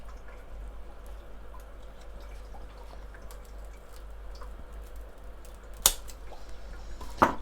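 Two crisp scissor snips cut through an emersed Anubias plant, one near the end and another just after, close and clear over a faint steady room hum.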